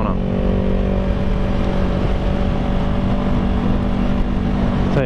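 Yamaha R3 motorcycle engine droning steadily and loudly with a sustained tonal whine as it accelerates through a corner, buffeted by wind noise throughout.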